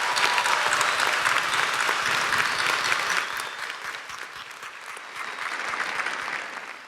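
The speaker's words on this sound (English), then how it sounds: "could we have a round of applause for Rosemary?" Sustained audience applause at a December university commencement ceremony at UNC Asheville, a full hall clapping steadily, slightly easing midway then swelling again.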